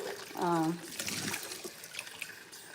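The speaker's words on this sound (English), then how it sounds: "All right, I'm rinsing bottles." Baby bottles are rinsed under a running tap, with water splashing and trickling at a modest level while a voice speaks briefly at the start.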